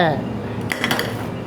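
Shallots and red curry paste for a pickled bamboo shoot coconut curry are pounded in a mortar, a few quick knocking and clinking strikes over a low background.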